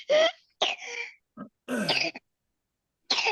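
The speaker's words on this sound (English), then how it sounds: "Don't cough in my face" A few short, harsh coughs or throat-clearing bursts, close to the microphone, separated by brief pauses.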